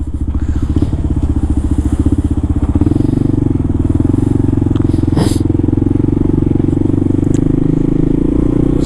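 A dual sport motorcycle ridden through New York City, its engine droning loud and steady close by with a rhythmic pulsing throb, a brief clatter partway through, and a voice talking over it.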